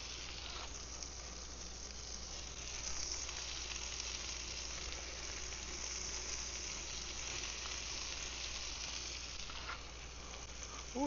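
Blackened fish with butter on a hot grill, giving a steady, quiet sizzle and hiss that holds evenly throughout without talking.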